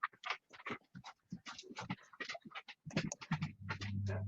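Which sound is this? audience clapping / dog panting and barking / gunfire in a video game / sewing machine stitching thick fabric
dog panting and barking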